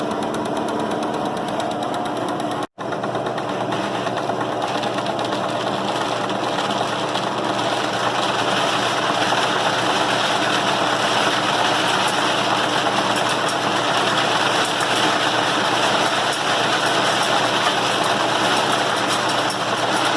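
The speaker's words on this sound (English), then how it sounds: "I have the fan open all the way and turned as fast as it will go" A corn cleaner fan opened all the way and running at full speed while cleaning field corn of sticks and cob pieces, a steady loud mechanical roar and whir that holds unchanged throughout.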